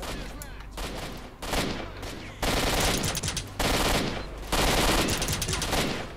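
Suppressed pistol fire in the S.T.A.L.K.E.R. video game comes amid a dense barrage of game gunfire, loud bursts of rapid shots with brief gaps between volleys.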